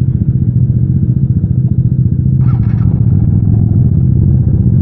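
A scooter engine idling and puttering during a test ride at a mini moto show in Huntington Beach, a loud steady low throb with a rhythmic pulse and a brief higher rattle midway.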